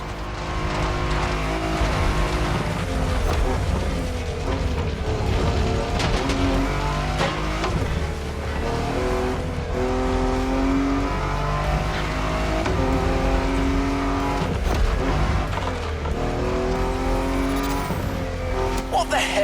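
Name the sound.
car driving off-road in video game The Crew Motorfest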